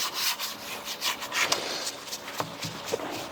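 Brush scrubbing a car's surface to clear polishing dust: close, steady bristle rubbing and swishing strokes in quick repeated passes, with a few light knocks, no talk.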